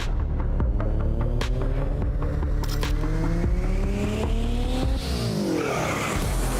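Race car in the racing video game iRacing at the Crandon World Cup, a loud close engine whining up through the gears with repeated upshifts, a drop on braking near the end and tire squeal.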